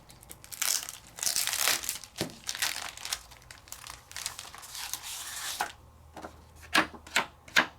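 Sheet of standard-weight vellum paper, 220 GSM, being handled and flexed, giving repeated crisp crinkling and rustling bursts, close and fairly loud, with sharper separate snaps toward the end and no talking.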